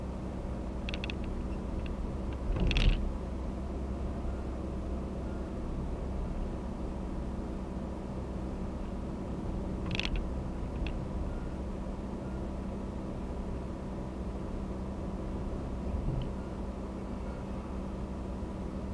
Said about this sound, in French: T'entends le bruit du moteur?